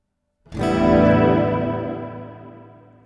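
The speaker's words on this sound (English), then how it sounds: "spring reverb," A Donner Hush-I Pro electric travel guitar chord struck once, with a spring reverb adding a slightly metallic shimmer as the sound fades out over a few seconds.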